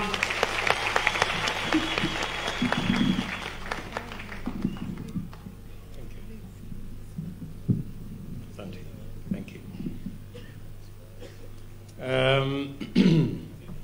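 Audience applause welcomes Kenya's Deputy President at an outdoor relaunch event for the Rivatex factory, a dense crackling burst over the first few seconds that fades into murmuring crowd noise, with a voice rising briefly near the end.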